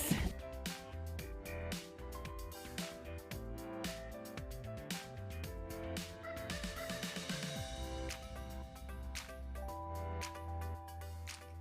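Ducks calling in a marsh at the Clifford E. Lee Nature Sanctuary near Edmonton on a late afternoon, with repeated honking calls layered over a steady, fairly busy background.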